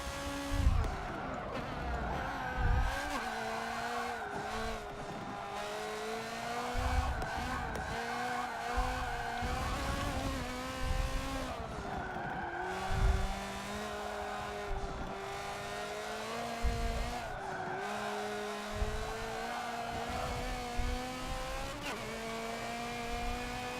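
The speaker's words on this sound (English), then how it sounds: "Got on the power a little bit too early there, so it gave my car wheel spin" Race car in the Forza racing game spinning its wheels under early throttle, engine revving and tires squealing in sustained bursts through a chicane, loud and continuous with shifting pitch.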